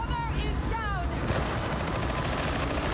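Sustained rapid gunfire in Warhammer 40,000: Darktide, a dense continuous burst at steady loudness that fills the whole stretch, with a voice briefly heard at the start.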